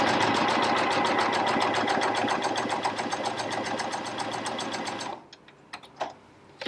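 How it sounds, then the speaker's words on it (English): A Janome Coverpro 1000cpx coverstitch machine stitches fabric with a loud, fast, steady mechanical chatter close by, stopping suddenly and followed by a few light clicks of handling. "Now let's just stitch."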